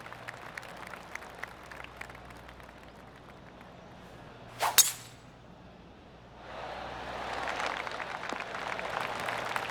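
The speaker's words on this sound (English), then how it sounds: "Oh, I can hear the golf claps around the course." Scattered polite claps patter from a distant video game crowd in PGA Tour 2K25 at a par 4 tee shot, swelling into a fuller, steadier round of golf applause in the second half.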